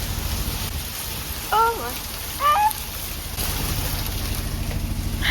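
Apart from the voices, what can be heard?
heavy hail falling outside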